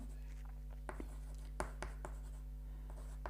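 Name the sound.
writing on a board during a chemistry lecture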